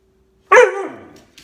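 A puppy at home lets out a single sharp, close bark that trails off into a short fading whine, with silence before it.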